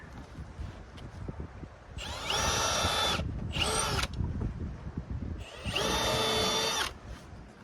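Cordless power drill driving deck screws into wooden beach stairs outdoors: three loud, close whirring bursts of a few seconds each, separated by quieter gaps with wind and handling noise.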